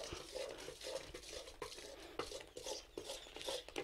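A thick jaggery mixture for peanut gachak is stirred in a pan, giving steady scraping and rubbing strokes with faint clinks, close by and continuous.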